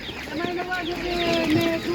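Chickens and roosters clucking steadily at an animal market, several birds close by in overlapping calls, with people talking in the background.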